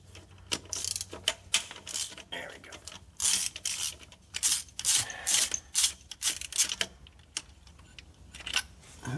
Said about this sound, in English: Looks like we've got four bolts holding this on, so let's go ahead and get those out.